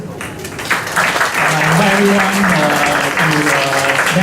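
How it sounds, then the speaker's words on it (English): Applause from an audience for a panel at the end of a question and answer session begins about a second in and carries on steadily as someone speaks over it. "Round of applause for our panel."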